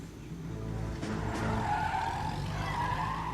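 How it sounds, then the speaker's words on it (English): A car in the L.A. Noire video game speeds away with a sustained tire squeal and skid over a steady engine roar, loud and continuous with no voices. "And away goes the car."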